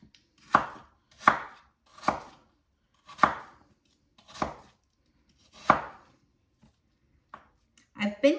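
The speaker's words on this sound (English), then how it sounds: "I'm going to just chop it up. Small cubes, small slices, thin slices." An apple being chopped into small cubes with a sharp Ginsu knife, six distinct close knife strikes on a board at uneven intervals with quiet gaps between, followed by a couple of softer knocks at the end.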